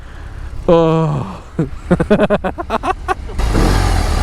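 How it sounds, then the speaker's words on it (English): Up close, a BMW R18 First Edition motorcycle engine is revved in a few sharp, short blips after a brief exclamation, and a steadier engine rumble follows. "just rev the engine"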